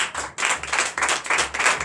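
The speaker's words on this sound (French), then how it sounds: "je vous demande de l'applaudir très fort" A church congregation claps during a Sunday worship service in Benin, a rhythmic run of loud, close claps in pulsing bursts.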